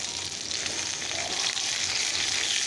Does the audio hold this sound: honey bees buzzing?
no